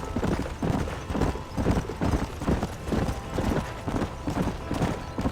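Horse hooves clip-clop at a steady walking pace in Red Dead Redemption, a continuous rhythmic clatter of hoofbeats close by with no talk over it.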